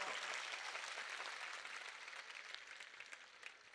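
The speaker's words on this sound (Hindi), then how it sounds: "एक बार मुझे ताली बजा करके माहौल दीजिए" A large audience claps at a poetry recitation. The applause is dense and continuous, starting strong and slowly thinning toward the end, with no voices on top.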